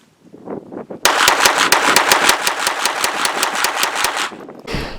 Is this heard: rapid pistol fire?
yes